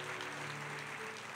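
Church congregation applauding at an evening service, a faint, steady wash of many hands clapping together with a low hum underneath, no distinct voices.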